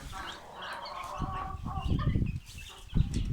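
Young chickens grown nearly bigger than their broody hen, peeping and clucking together at close range in a coop, with soft low rustling and a few louder squawks toward the end.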